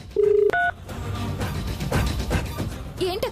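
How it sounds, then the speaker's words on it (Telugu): Push-button telephone keypad tones, a few quick beeps in succession as a number is dialed, fairly close and clear with little else around them. "ఉండండి స్వర్ణకి ఫోన్ చేసి అడుగుతాను."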